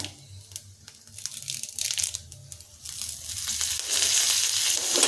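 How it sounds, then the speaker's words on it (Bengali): Coriander seeds, cumin and three curry leaves sizzle and crackle in hot oil over a low gas flame, a steady close frying hiss that swells louder toward the end, with no talking. "এখন তেলটা কমিয়ে রেখে দিয়ে দিচ্ছি 1 চামচ ধনে, 1 চামচ জিরে আর ধনেটা একটু নেড়ে চেড়ে নেওয়ার পর দিয়ে দিচ্ছি 3টে কারি পাতা"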